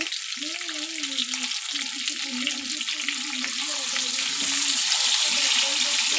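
Potatoes frying with salt in a pan, a steady close sizzle with occasional stirring scrapes, while a voice speaks softly over it.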